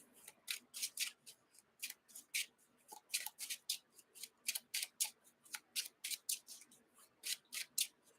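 Marvel Champions encounter deck cards being riffled and shuffled, a rapid run of crisp papery bursts repeating for several seconds, close and fairly quiet, with no talking.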